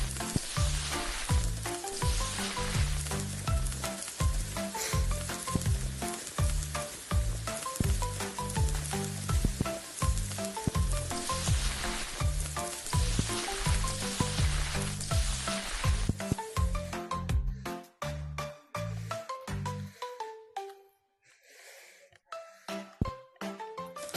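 Food sizzles loudly on a food truck griddle during morning prep, a dense, steady crackle over a rhythmic low thumping, then cutting out to quieter scattered sizzles and clicks near the end.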